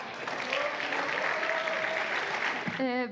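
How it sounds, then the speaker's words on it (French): Audience at a cégep science video competition applauds the next contestants with continuous clapping, and a voice cuts in near the end. "Les prochains participants, on applaudit"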